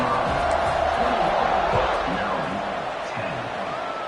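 Stadium crowd noise from an NCAA 26 college football video game, a steady dense roar of cheering fans before a kickoff, loud and continuous with a commentator's voice running underneath.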